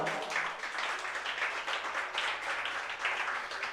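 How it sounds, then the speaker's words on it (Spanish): A church congregation claps steadily and fairly loudly, a continuous dense patter of many hands lasting the whole stretch with no talk over it. "yo le daría un fuerte aplauso al Señor por eso"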